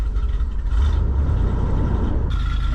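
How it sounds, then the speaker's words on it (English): A Chevrolet big block 454 V8 in an RV idles with a low, rumbling exhaust, close and steady with slight unevenness, carrying on without any talking. "And that exhaust noise you hear is not from up here."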